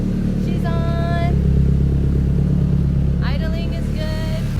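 A car engine idles steadily right after a Walbro fuel pump install, a close, even low rumble with a faint whine, and brief voices are heard over it.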